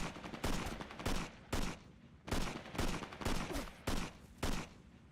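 AK-47 fire in the PC shooter Tunnel Rats, rattling off in about seven loud, sharp bursts separated by short pauses, with no talking.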